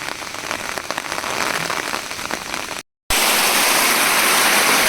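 Steady heavy monsoon rain hissing over a surface on a hilltop plateau, continuous and loud, with a brief dropout before the downpour resumes even denser.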